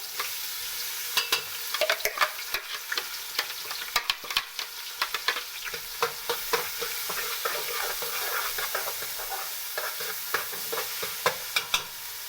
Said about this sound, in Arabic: هننزل بقى ايه البصل على الثوم